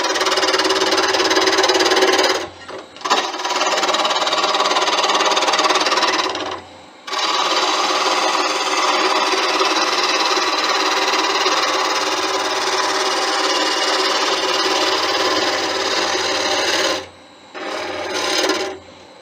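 A wood lathe at speed rounds off a bottle opener blank, a loud continuous rasping scrape of the tool against wood, broken by a few short pauses when the cut lifts off.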